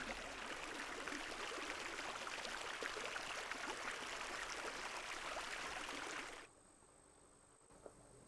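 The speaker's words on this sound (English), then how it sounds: "This is the sound of the river." A river stream flows in a steady, dense rush of water recorded up close, continuous and even for several seconds before cutting off abruptly to near silence.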